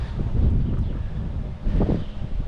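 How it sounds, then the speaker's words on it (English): Strong wind buffeting an outdoor microphone beside a swimming pool under renovation, a low, rumbling roar that surges in gusts, easing slightly and then swelling again, with no voices. "Very windy out, which is not good."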